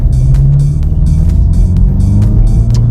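A 2017 VW Mk7.5 Golf GTI Performance with 315 hp rolls through a small village, its engine a steady, loud low drone heard from inside the cabin, with periodic rhythmic thumps.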